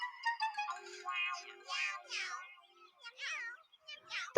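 A cartoon cat meows again and again in a bright, sing-song voice, probably a person imitating the sound in a children's story about a playground. The meows come in quick, close repeated bursts.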